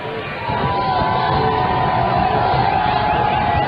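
A football stadium crowd at a CSU-Pueblo versus Colorado Mesa game roars in a steady, swelling wall of cheers and whoops that rises after a brief quieter start and stays loud throughout.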